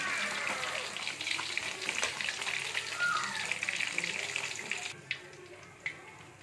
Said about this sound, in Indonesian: Nah, ini ikannya tak goreng dulu ya, teman-teman ya. Biar kering, tak goreng dulu.